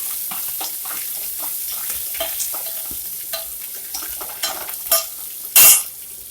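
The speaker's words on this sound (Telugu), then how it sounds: "ఇప్పుడు దాంట్లో మనం కరివేపాకు యాడ్ చేసేసుకుందాం ఆనియన్ ఇంకా పచ్చిమిరపకాయలు వేసి బాగా ఫ్రై చేసుకుందాం" Curry leaves, onions and green chillies frying in oil for cashew rava upma: a steady close sizzle with spatula stirs and scrapes, ending in a sharp metallic clatter against the pan.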